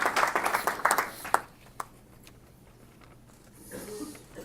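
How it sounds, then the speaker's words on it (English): Applause and clapping from a press conference audience for a boxer, a dense burst of many hands in the first second and a half, then fading to a few scattered claps and room murmur. "So a big round of applause, please, for Luis Arias."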